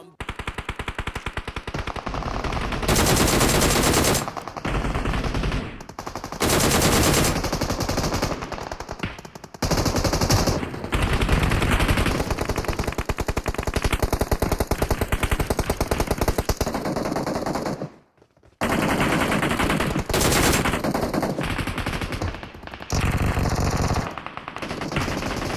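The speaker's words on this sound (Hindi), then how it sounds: "यहाँ से फायरिंग का साउंड आ रहा होता है" Automatic gunfire in the video game BGMI as two squads fight, with dense rapid bursts that repeat across the clip and a brief silent gap near the end.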